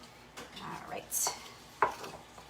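A wooden spoon mixes green-tinted dough in a bowl nearby, making a few soft scrapes and sharp knocks against the bowl in an uneven rhythm.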